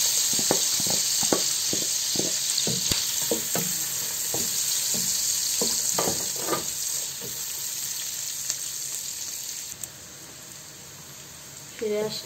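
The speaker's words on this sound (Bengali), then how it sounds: "এগুলো এখন আমি একটু ভাজবো" Almond flakes frying in oil in a pan for chicken kabsa, a steady close sizzle with a string of sharp clicks and scrapes from stirring, fading into a softer continuous hiss.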